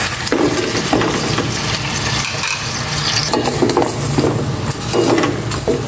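Pork sautéing in hot oil in a pan for fritada, a loud, continuous close sizzle broken by scraping and stirring clatter of a utensil against the pan, with no talk.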